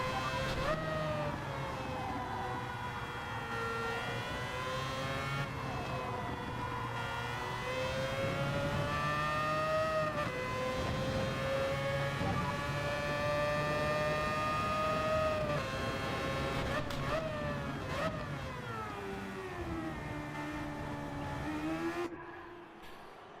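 Car engine in the Gran Turismo 7 racing game, revving continuously and loudly with a rising and falling pitch through gear changes, cutting off near the end; no talk over it.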